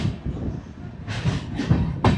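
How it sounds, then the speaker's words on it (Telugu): A Kondaveedu Express train running on rails, with a steady low rumble and a few sharper rhythmic clacks close by inside the moving carriage. "అనంతపూర్ నుంచి అయితే ట్రైన్ స్టార్ట్ అయిపోయింది."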